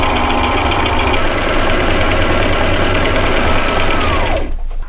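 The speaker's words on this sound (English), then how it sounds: "Now it's time to do some sewing." Sewing machine stitching a cover for a pull-out bench seat, a loud steady mechanical whirr with rapid needle chatter that runs continuously, then winds down and stops near the end.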